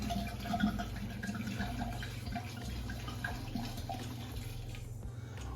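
Red wine poured from a bottle into a container for sangria, a continuous liquid trickle and splash with faint drips, close by and steady for several seconds, no talking over it.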